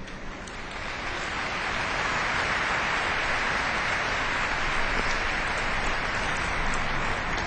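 A congregation at a Sunday evening Mass in a church gives sustained applause, a dense, steady clatter of many hands that swells in the first second and then holds evenly.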